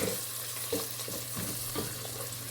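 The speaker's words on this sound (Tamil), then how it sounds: "இதை சேர்த்துட்டு நல்லா வதக்கி விட்டுக்கலாம்." Green chilies and coriander leaves sauté in a hot pan, a steady sizzle broken by regular soft scraping strokes of stirring, close and moderately loud, with no voices.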